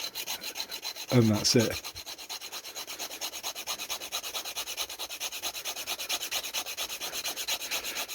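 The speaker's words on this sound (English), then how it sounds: "just give them a quick sharpen with a file" A chainsaw file rasping against a small wire-stripper blade in quick, regular back-and-forth strokes, close and steady, with a brief spoken remark early on over the filing.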